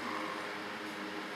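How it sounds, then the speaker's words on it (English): An electric fan runs in a hot room, giving a faint, steady whirring hum with a low motor drone throughout. "Sorry for that stupid fan because it's very hot in here"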